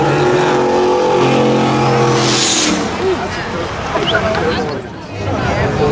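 A pickup truck coasts in after a spectator drag race at a speedway. A loud engine roar fades into a lower rumble over crowd babble, with people talking nearby.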